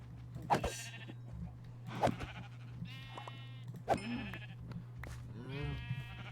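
Sheep in Minecraft bleat repeatedly, four or five wavering calls spaced about a second apart, clear and close over a constant low electrical hum.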